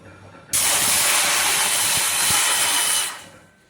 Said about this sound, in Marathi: तर इथे मी अर्धा कप पाणी टाकलेलं आहे